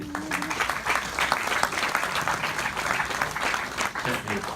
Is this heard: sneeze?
no